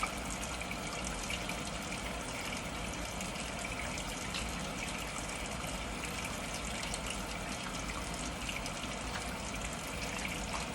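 Tap water runs continuously while hands are scrubbed beneath it, fingers and knuckles washed one by one, a steady, soft splashing hiss with no pauses.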